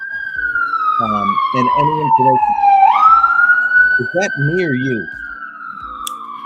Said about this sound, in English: I have a fire truck in the background.